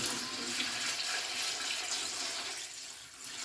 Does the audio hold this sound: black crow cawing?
no